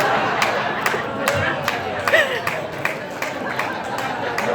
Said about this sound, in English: There's a few PETA people back there booing me.